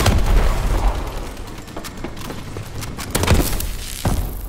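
Explosions from exploding enemies in the Exo Survival mode of a shooter video game, a dense run of booming bursts and sharp pops over a constant, noisy game soundscape, with a few heavier blasts near the end.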